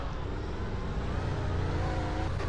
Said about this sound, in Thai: เสียงรถมาแล้ววะ